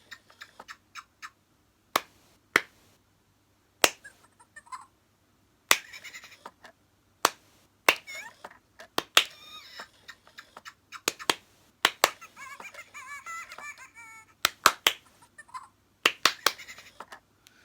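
Sharp hand claps, single and in quick pairs, sound close by, tripping a Fingerlings interactive monkey toy, whose squeaky chirping chatter answers in short bursts between the claps.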